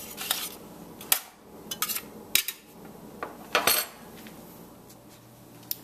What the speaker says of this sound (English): this spatula and fork might work pretty well. I'm just going to flip them over like that.